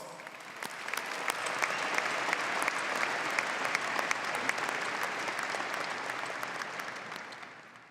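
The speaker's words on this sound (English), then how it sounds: "Let's give them a round of applause." A commencement ceremony crowd gives a sustained round of applause, a soft, even wash of clapping heard from some distance that holds steady for the full eight seconds.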